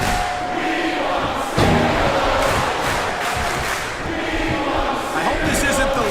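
A capacity crowd roars in the wrestling game SmackDown vs Raw 2007, a dense, continuous wash of cheering with a sharp swell partway through, heard up close and loud with no voices standing out.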